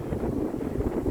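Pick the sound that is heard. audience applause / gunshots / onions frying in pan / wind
wind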